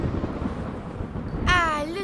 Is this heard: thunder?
yes